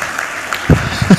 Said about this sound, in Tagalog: Palakpakan po naman natin siya.